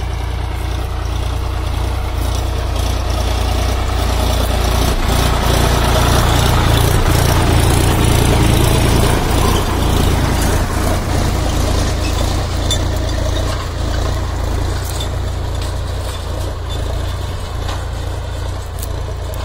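A loud Solis 5015E 50 hp tractor engine runs steadily at idle, a deep continuous diesel rumble close by, with no one talking.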